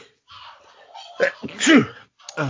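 A single sneeze bursts out after some quiet murmuring, followed by a brief pause and a short voice.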